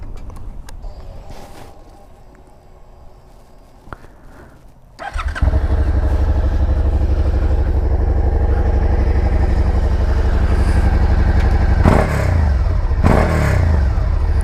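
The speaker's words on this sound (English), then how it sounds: "We're going to listen to this bike. 2017 SV650. That's in neutral." A 2017 Suzuki SV650 motorcycle in neutral sits quiet, then fires up and settles into a loud, steady, close idle with a deep throb, with a couple of brief swells near the end.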